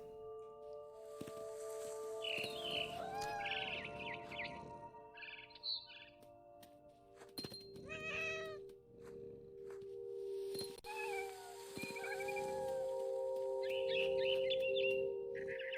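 Barn swallow chirps and a cat's meows from the video game What Remains of Edith Finch, bright repeated bird calls in bursts over a steady game music drone, with a brief flutter of sound midway.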